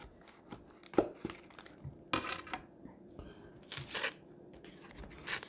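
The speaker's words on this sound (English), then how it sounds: "Let's cut it in half." A knife slicing a frosted cinnamon roll in half: a few soft cuts and crackly taps against a plate or board, scattered and close, with a faint voice in the background.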